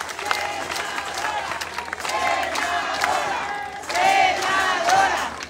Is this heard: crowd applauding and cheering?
yes